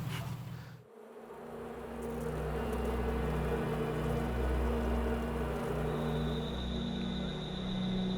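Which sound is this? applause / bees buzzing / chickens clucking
bees buzzing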